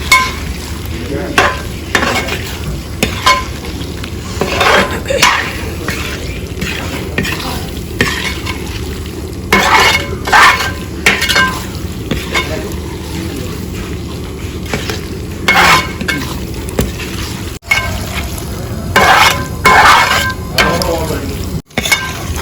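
Peeled, cleaned rambutan being stirred into a hot pan for rambutan pickle, with a steady sizzle and fry under repeated scraping strokes of a spoon against the pan, close and fairly loud throughout.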